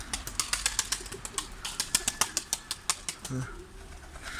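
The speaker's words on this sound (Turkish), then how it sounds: "Benim kuşlar kalktı" Rapid wing flaps clatter close by as pigeons take off, a fast rhythmic flutter of claps that fades after a few seconds.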